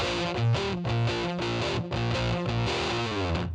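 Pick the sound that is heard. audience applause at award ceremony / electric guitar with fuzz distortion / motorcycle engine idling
electric guitar with fuzz distortion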